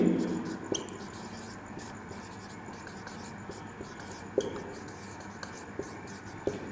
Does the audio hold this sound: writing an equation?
yes